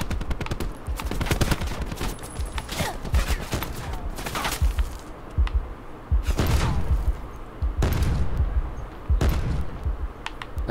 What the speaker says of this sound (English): I'm getting shot at by 2 guys.